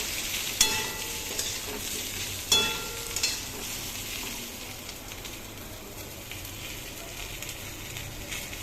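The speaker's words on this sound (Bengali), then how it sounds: "একটু ভালো করে কষিয়ে নেব।" Potatoes and pointed gourd that were fried earlier are stir-fried in a pan, giving a steady sizzle broken by a few sharp scrapes of the spatula near the start. No one speaks.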